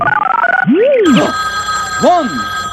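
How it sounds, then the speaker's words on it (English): A telephone bell rings twice with warbling, rising-and-falling tones inside a Halloween haunt attraction, the first ring long and the second shorter, loud and close with no talking over it. "One ring. That's a telephone."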